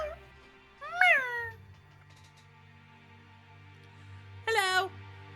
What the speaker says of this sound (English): She likes to greet me with different mews.